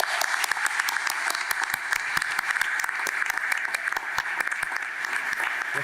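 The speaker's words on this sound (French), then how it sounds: "Une bonne main d'applaudissements, s'il vous plaît." Hands clap across the audience at a regional culture awards gala, with distinct individual claps standing out over a lighter crowd of applause, sustained and fairly close.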